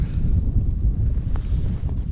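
Low, rumbling buffeting of wind against a microphone outdoors in snowy winter weather, steady and loud throughout with no voices.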